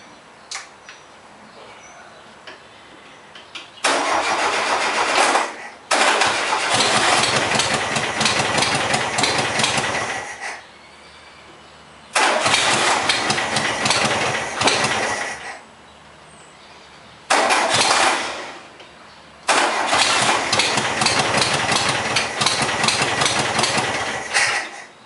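A sandrail dune buggy with a newly installed engine is started by jumping the solenoid, roaring loudly in several separate bursts of running, each cutting back to a quiet low idle or silence between attempts.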